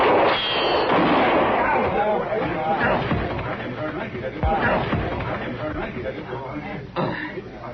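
A gunshot from a Gunsmoke western TV episode, a sharp report near the middle of the scene, heard under dramatic music and the voices of people talking.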